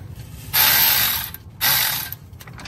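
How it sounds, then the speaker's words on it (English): Two bursts of rapid ratchet clicking as a wrench tightens transmission-side engine mount bolts on a Mazda during an engine mount replacement, each burst about a second long, close and loud with a short pause between. "the ones that go into the transmission get bolted on and tightened first"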